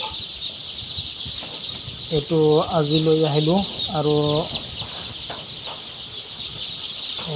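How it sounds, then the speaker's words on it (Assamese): Many local chicken chicks at a farm keep up a constant high-pitched peeping chorus, while a nearby bird gives a few loud clucking calls in the middle and someone briefly speaks. "আজি আমি এটা ফাৰ্মত অৰিজিনাল লোকাল মুৰ্গীৰ পোৱালি লৈ আহিছোঁ"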